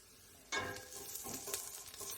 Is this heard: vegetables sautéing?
yes